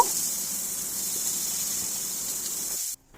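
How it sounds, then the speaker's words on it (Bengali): Onion and tomato fry in a pan with a constant, even sizzling hiss close to the microphone, cutting off abruptly just before the end. "এখন এই পেঁয়াজ টমেটোটা একটু ভাজা ভাজা করে নেব"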